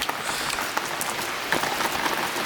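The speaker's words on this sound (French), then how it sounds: "Bon là il pleut, hein" Rain pours steadily in the jungle of French Guiana, a dense close hiss of drops drumming on surfaces with a few louder splashes and no voices.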